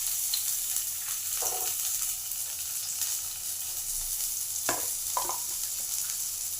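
Onions fry in hot oil with spices, a constant bright sizzle broken by a few stirring scrapes and spoon taps, close and steady with no talking.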